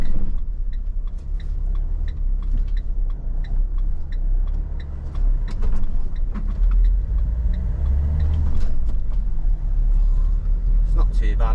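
A van with a small 1.6-litre engine drives through traffic, its steady low engine rumble and road noise heard from inside the cab with occasional light clicks and knocks.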